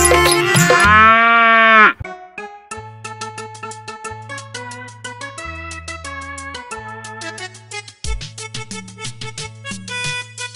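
A single drawn-out, cow-like low opens the clip, then a bright, bouncy children's rhyme tune with a steady beat takes over.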